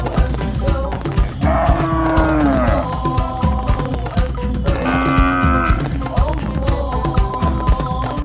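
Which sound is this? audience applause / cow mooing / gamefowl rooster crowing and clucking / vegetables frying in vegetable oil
cow mooing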